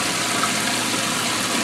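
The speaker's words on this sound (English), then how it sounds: "And I got one of those little pumps to oxygenate the water." A small aerator pump oxygenating the water in a boat's live well on a panfishing rig gives a steady, continuous gushing, bubbling water hiss, close and even throughout with no talking.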